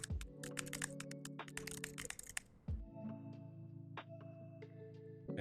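Rapid clicks of typing on a computer keyboard clatter in a quick burst, pause, then a few more scattered keystrokes, faint and close over a steady low hum.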